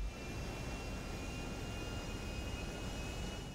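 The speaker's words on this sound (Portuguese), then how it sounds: "Ah, é um avião normal, né?" Steady drone of an ordinary airplane engine in GTA V Online, heard as a continuous even hum with a faint high whine on top, held constant throughout without speech.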